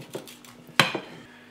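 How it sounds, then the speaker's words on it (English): A knife or fork clinks and scrapes against a plate while slicing warm banana cake, a few short clatters with one sharper ceramic knock, close and fairly quiet. "Let's cut a slice and have a taste."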